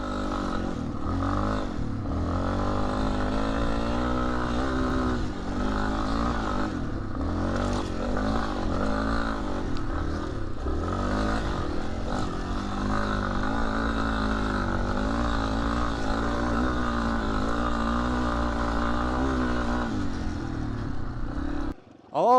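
A Yamaha XT250 dual-sport motorcycle's single-cylinder engine labors up a hill climb in low gear, loud and close, with a sustained throbbing drone that rises and dips as the throttle shifts, plus some clatter from the trail.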